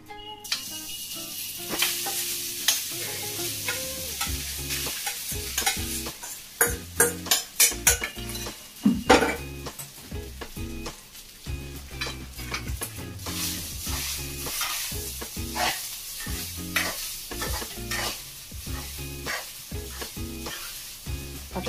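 Rice being stirred and fried in a pan on high heat: loud sizzling with repeated scraping and clattering of a spoon against the pan in an uneven rhythm, no speech.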